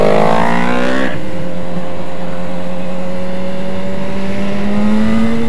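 A BMW S1000RR sport motorcycle with carbon wheels revs sharply, then settles into a loud, close, sustained engine drone with a slowly rising pitch, heard alone without talking.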